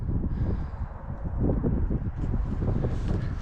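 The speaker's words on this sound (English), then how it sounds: "It is super windy today," Strong gusty wind buffets the microphone at an abandoned WW2 RAF airfield in Scotland, a loud continuous low rumble with rising and falling gusts and no speech.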